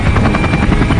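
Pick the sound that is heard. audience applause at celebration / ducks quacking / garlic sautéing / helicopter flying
helicopter flying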